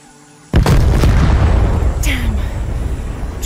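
Explosion blasting into a temple in Shadow of the Tomb Raider: a sudden loud boom after a brief quiet, followed by a long rumbling roar and debris that fades slowly, with a faint voice near the end.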